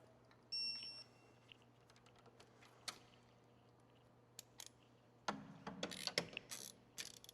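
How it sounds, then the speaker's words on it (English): Torque wrench tightening wheel bearing bolts to spec on a 2008-2011 Dodge Grand Caravan during rear wheel bearing replacement: quiet, scattered ratchet clicks, then a denser burst of clicking and mechanical clatter near the end, over a faint tonal hum. "we're going to torque these down to 74 foot-pounds"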